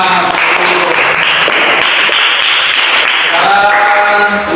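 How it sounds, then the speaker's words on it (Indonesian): A classroom of students clapping together, loud dense applause sustained throughout at close range, with a voice briefly heard toward the end. "Oke, tepuk tangan."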